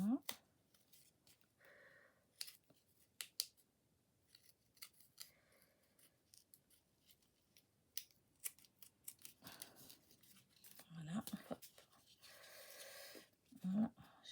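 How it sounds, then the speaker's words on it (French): Small scissors snip around a paper heart in a close, quiet craft setting, giving intermittent crisp cutting strokes between soft handling noise, with a voice speaking at times. "mes petits ciseaux, je coupe tout le tour."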